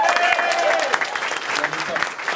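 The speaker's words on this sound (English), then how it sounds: "a massive thanks out and round of applause for these two amazing" An audience breaks into loud, continuous applause, a dense wash of clapping that holds for a couple of seconds while voices carry on over it.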